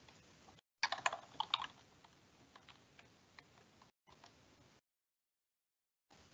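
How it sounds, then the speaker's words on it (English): Typing on a computer keyboard: a quick run of soft key clicks, loudest near the start, then lighter scattered taps broken by short silent gaps, close and faint, with no talking. "So I'm also going to type here another announcement."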